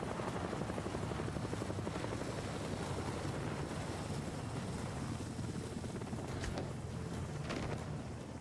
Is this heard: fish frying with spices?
no